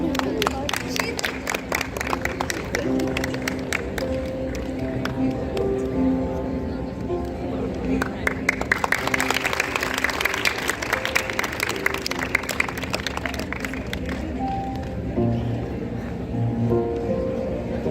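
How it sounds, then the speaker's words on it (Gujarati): A crowd at a national homoeopathic summit welcome in Vadodara applauds with steady, dense clapping that runs throughout, while a voice talks over it. "ડૉક્ટર ચેતન કુમાર અને આનંદબેન બંનેની માટે તાળીઓ થઈ જાય"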